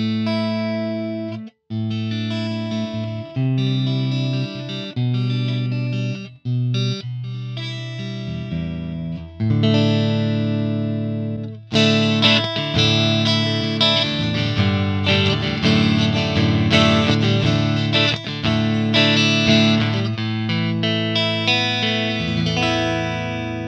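An electric guitar played on the neck pickup through an Axe-Fx III amp model's clean channel rings out sustained chords and single notes, starting sparse with pauses and then building into fuller, brighter strumming.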